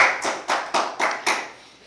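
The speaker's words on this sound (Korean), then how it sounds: "박수로 격려하고" A church congregation applauds in welcome during a Sunday worship service, giving about six quick bursts of clapping that rise and fade in turn, fairly close and with no talking.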